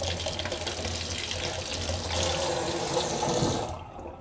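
Berries rinsed under a running kitchen tap, a steady hiss and splash of water that continues close by before cutting off abruptly near the end.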